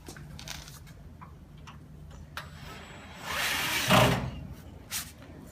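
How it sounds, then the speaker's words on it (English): A power driver briefly whirs for about a second, driving a screw into the base of a steel filing cabinet, amid light ticking and handling noises in a quiet room. "You just put the screws in."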